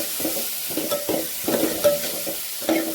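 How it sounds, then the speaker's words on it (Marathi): Coriander leaves sautéed in a pan, after tomatoes, for a spicy toor dal: a spatula makes rhythmic scraping strokes about twice a second over a soft sizzle, close and clear, with no talking. "कोथिंबीर पण छान परतून घ्यायची।"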